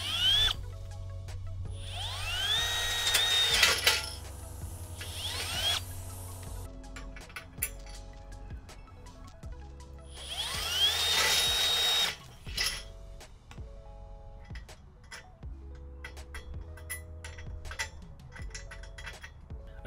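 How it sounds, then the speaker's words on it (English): Two bursts of a power drill drilling out holes in metal with a rising whine, separated by clinks and rattling of metal parts being handled nearby. "So I'm gonna go ahead and start drilling these out."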